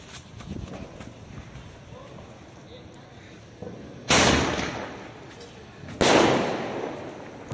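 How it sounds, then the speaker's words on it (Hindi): A small yellow Supreme Fiber Penta Force sky shot goes off outdoors, two sharp loud bangs a couple of seconds apart, each with a short crackling tail, over light wind and faint background voices. "अब जलाते हैं सुप्रीम फाइबर के इस छोटू स्काई शॉट को, जो कि है पेंटा फोर्स करके, येलो कलर का है"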